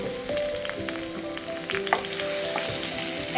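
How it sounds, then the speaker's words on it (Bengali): Garlic sizzling steadily in hot oil with two bay leaves and two dried red chillies, a close, continuous fry broken by brief clinks of a utensil against the pan; no voices. "রসুনটাকে তেলের সাথে এখন ভালোভাবে ভেজে নেব"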